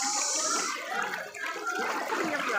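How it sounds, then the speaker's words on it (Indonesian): Fast flood water rushes through a flooded village in Borneo. A strong, continuous hiss and gurgle of the current sounds close and steady throughout. "Nah, ini arusnya deras."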